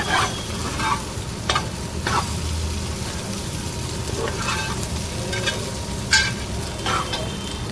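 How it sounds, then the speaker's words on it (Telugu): Egg fried rice sizzles steadily in a hot pan while a utensil scrapes and stirs at irregular intervals, close up. "ఇంకా కొంచెం ఫ్రై చేసుకోవాలి"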